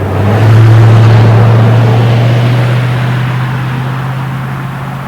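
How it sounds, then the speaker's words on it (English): A car drives past on a road in Seymour, Indiana, its loud, close engine drone swelling quickly and then slowly fading as it moves away. "all these cars are coming"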